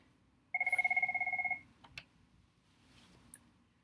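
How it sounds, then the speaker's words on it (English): A telephone bell rings in one short electronic trill of about a second, clear and fairly close, followed by faint clicks and quiet room noise. "pardon my phone ringing"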